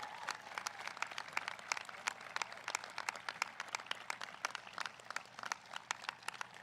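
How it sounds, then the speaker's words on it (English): Audience applause at a high school commencement ceremony, a steady patter of many hands clapping, moderately distant and sustained throughout. "let's give them all a big round of applause"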